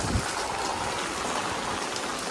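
Rainwater rushes downhill across farmland during a heavy evening downpour, a dense, steady broadband wash of flowing water and rain, close and even throughout, with no voices.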